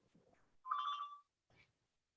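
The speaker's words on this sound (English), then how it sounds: "if you could just have your phone ready, Johnny's gonna call you." An incoming call sets a telephone ringing once: a single short electronic ring burst, faint and distant in a quiet meeting room, with soft murmurs around it.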